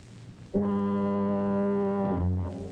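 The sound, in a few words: foghorns bleating in fog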